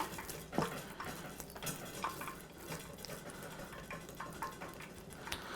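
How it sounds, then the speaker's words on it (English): A spoon stirs a pan of fudge for the last time with soft scraping and clinks of metal against the pan, quiet and continuous with small knocks. "let's give it a final stir"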